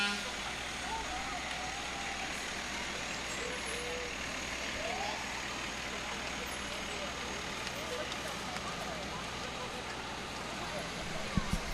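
Fire department engine from the Blaine Spring Lake Park Fire Department rolling past in a festival parade, a steady broad engine rumble and crowd noise holding level throughout, with voices talking in the background.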